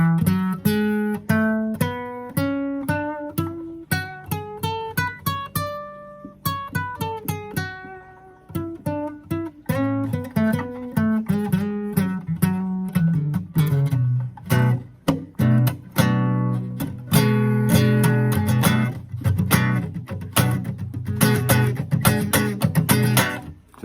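A Dorian mode scale is played, single notes climbing and then descending before settling into fuller ringing chords, clear and close with no voices.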